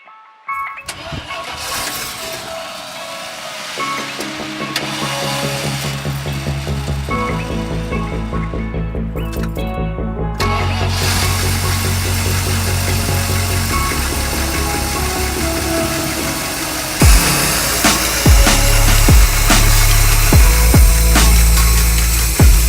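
An old vintage Chinook motorhome engine that had sat unstarted for a long time cranks and catches, then runs with a loud continuous roar that rises as it revs, with no talk over it.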